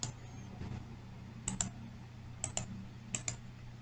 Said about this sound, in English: let's try the manual way by typing netcat